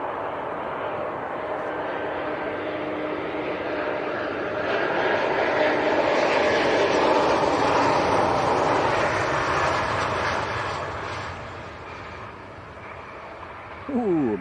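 An airliner on short final landing at Leeds Bradford Airport, a broad engine roar that swells to a peak mid-way and then fades, heard from a distance over background talk.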